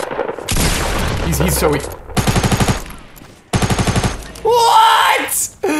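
Bursts of rapid automatic gunfire in Fortnite Battle Royale, several loud rattling volleys separated by short pauses, with a player talking over and between them.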